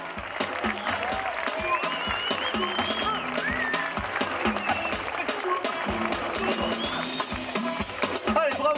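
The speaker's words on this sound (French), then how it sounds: "On peut les applaudir, s'il vous plaît" An audience applauds beach tennis players after a mixed doubles semifinal at the Open des Brisants 2021 on Réunion. Continuous clapping and crowd noise fill the clip, with voices mixed in throughout.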